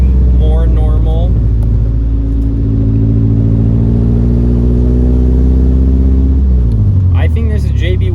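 A Volvo 240 diesel engine idles and revs with a steady low rumble and mid-range drone, its exhaust patched after a leak; a voice speaks briefly at the start and again near the end as the engine note drops.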